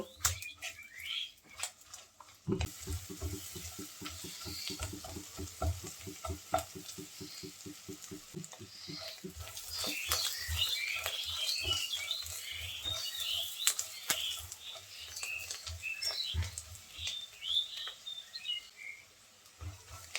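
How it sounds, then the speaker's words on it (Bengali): Sliced onions and a bay leaf fry in a pan, giving a steady close sizzle as a utensil stirs and scrapes in a rapid rhythmic series, then in irregular strokes, with faint birdsong in the background. "এখন এই পেঁয়াজটা হালকা একটু ভেজে নেব"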